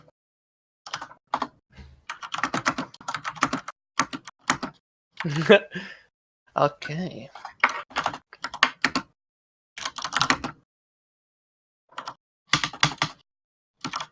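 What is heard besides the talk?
typing on a computer keyboard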